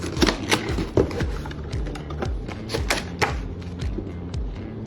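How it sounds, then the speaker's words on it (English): Typing on an MCHOSE K87 mechanical keyboard, a close run of crisp, clacking keystrokes in an uneven rhythm with a few heavier thocks, heard alone. "MCHOSE K87 Mechanical Keyboard"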